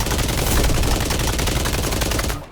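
Sustained automatic rifle fire from a video game empties a full magazine of about thirty rounds into a deployable barrier, a dense rapid rattle that stops abruptly near the end.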